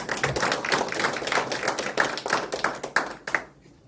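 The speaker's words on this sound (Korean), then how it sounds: "한 분 한 분 소개할 때마다 큰 박수로 환영해 주시면 고맙겠습니다." An indoor audience at a forum on a local festival's development claps to welcome guests, a sustained round of many hands that gradually thins and stops near the end.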